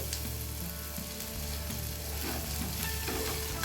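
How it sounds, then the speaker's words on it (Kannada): Spices and homemade masala with a pinch of asafoetida powder sizzle steadily in hot oil in a pan for vangi bath, a continuous close crackle with faint stirring. "ಇದೆಲ್ಲ ಚೆನ್ನಾಗಿ ಫ್ರೈ ಆಗಬೇಕು"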